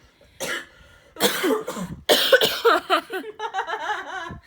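A few loud, harsh coughs in quick bursts, close by, followed by a short run of wheezy throat sounds or laughter.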